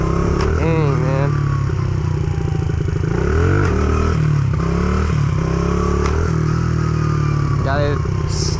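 Motorcycle engine during stunt throttle practice, loud and close, rising and falling in repeated revving sweeps with clattering mechanical noise, while a voice talks over it.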